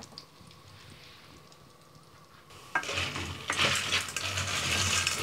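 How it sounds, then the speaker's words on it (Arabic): Pasta frying in a pan as it is stirred until golden: faint, quiet scraping at first, then a louder burst of sizzle and utensil clatter against the pan that continues near and steady, with no talk. "هنقلب فيها لغاية ما تبقى لونها ذهبي."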